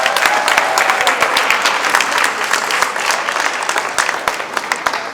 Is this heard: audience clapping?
yes